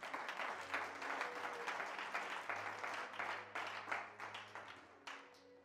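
A church congregation claps and cheers in praise during a sermon, dense applause with rippling bursts of clapping over a sustained crowd roar, filling the space for several seconds without speech.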